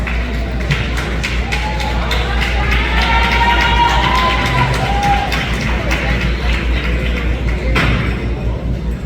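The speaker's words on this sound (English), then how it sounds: "give a round of applause for our managers" Banquet audience at a high school football awards night applauding and cheering for the team managers, a steady dense wash of clapping with crowd whoops and shouts, loud and sustained throughout.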